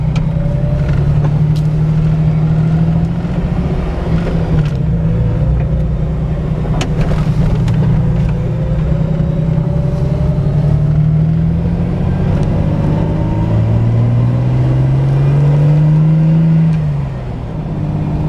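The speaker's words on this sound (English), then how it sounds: "Let's go for a ride real quick, and I'll show you, kind of like do a quick pull on it" Jeep TJ with a 4.6 stroker engine driving, its loud engine droning steadily with rising and falling pitch as it pulls and shifts, close and continuous with no talk.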